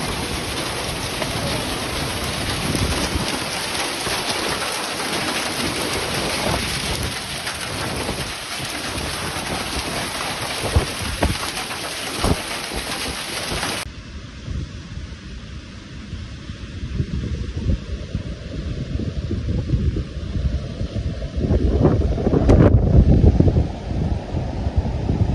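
Heavy rain and hail pour down during an early-morning thunderstorm in Saudi Arabia, a dense steady hiss with wind buffeting the microphone, easing partway through before building again with louder close impacts near the end.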